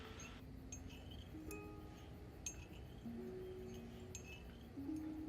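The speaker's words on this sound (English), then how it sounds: "stirring becomes much more deliberate and rhythmic" A metal spoon stirs in a china teacup, giving faint, scattered glassy clinks at a deliberate pace over a quiet background with soft sustained tones.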